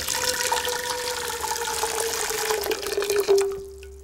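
Boiled water from a kettle pours steadily into a huge pasta pan, a continuous splashing gush that runs nearly the whole time, then thins into a trickle and stops; close and fairly loud with no talk.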